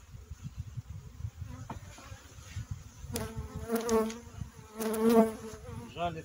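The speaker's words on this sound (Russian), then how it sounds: "пчела злая" Agitated honey bees buzzing around an open hive at a spring apiary in Ukraine, a dense continuous drone close to the ear with louder whining passes of individual bees sweeping by.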